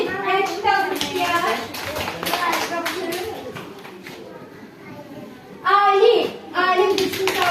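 A small child claps hands in short bursts of light, close claps, while adults and children talk and coax around them.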